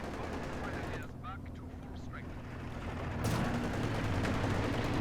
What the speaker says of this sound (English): Panther's back up to full though, so it can put a bit of pressure on these guards with its machine guns